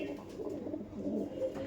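Kaldom pigeons in a loft, soft low coos from a nearby bird, brief and fairly quiet, with no talk.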